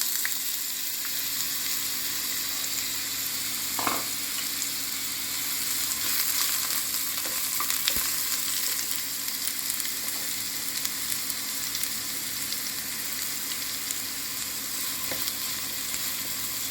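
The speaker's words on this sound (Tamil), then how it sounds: "ஆயில் காஞ்சிருச்சு பாருங்கள். இப்போ கட் பண்ணி வச்சுருக்கிற முள்ளங்கி சேர்த்துடலாம்." Cut radish fries in hot oil with a steady, close, even sizzle throughout, broken only by a few faint clicks and stirring touches.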